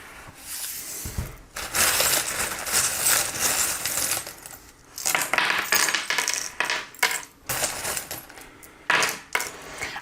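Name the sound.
charms being cast onto table for reading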